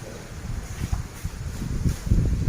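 Strong wind in a Thai rural setting, gusting and rumbling steadily with low buffeting surges that swell toward the end, like wind pushing against the trees and the microphone.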